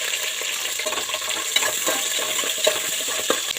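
Small shallots and peeled garlic fry in a pan of oil, giving a steady close sizzle broken by a few sharp clinks of stirring, with no talk over it.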